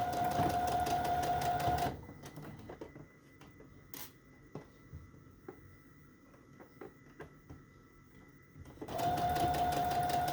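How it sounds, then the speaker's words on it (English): A sewing machine stitches down the middle of a fabric-and-lace strip, running loud and steady at the start and end with a quieter stretch of faint handling taps and rubbing in between. "I'm going to sew down the middle of that."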